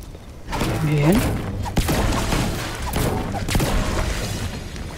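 Rapid bursts of gunfire and heavy thumps crackle through a Fortnite game soundscape, sustained and fairly loud, with a brief synthetic tone early on.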